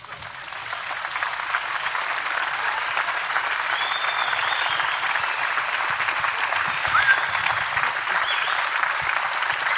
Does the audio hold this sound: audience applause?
yes